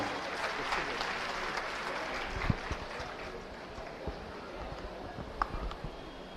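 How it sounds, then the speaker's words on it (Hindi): An audience at a Delhi government school event claps to welcome a speaker, a continuous, fairly faint, diffuse patter of many hands with a few sharper claps standing out. "आइए जोरदार तालियों से स्वागत करें।"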